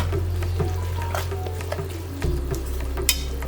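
Fenugreek leaves stirred through a cauliflower and carrot dish in a cooking pan, a soft scraping and sizzling mix over a steady low hum, with a sharper clink near the end.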